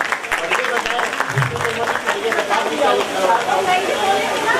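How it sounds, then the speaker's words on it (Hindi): An audience applauds at a devotional tableau event while a gift is presented, a moderate spread of clapping mixed with crowd chatter and a voice speaking over it. "बहुत जोरदार तालियां"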